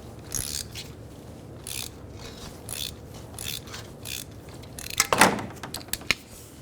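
Oil filter wrench working an oil filter loose on a 2007-2011 Toyota Camry 2.4L: quiet, irregular metallic ratcheting clicks and scrapes, a louder clattering burst near the end, with no talk.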